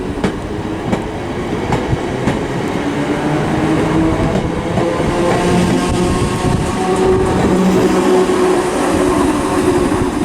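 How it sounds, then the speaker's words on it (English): A London Overground train at Romford station rumbles past at close range with a steady heavy roar, wheel clatter and faint squeals from the rails, loud and continuous throughout. "the partner now is the 12:11 London Overground service to Upminster."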